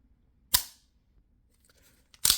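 Tisas MAC 9 DS aluminum flat face trigger gives two sharp, brief metallic clicks about two seconds apart, one as the trigger breaks and one as it resets, close and crisp against near silence.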